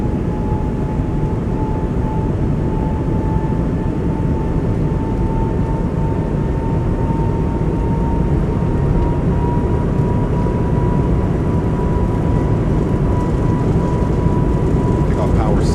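Airbus A220 engines in a flight simulator spool up toward takeoff power, a steady loud roar with a rising whine held throughout, with talk in the cockpit over it.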